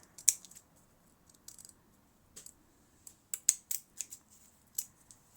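Scissors trim the edge of a papercraft card, with a series of short, crisp snips spaced irregularly and heard close up against a quiet room.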